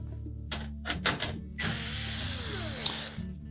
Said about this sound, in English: We'll simply remove the screws that secure the access panel in place.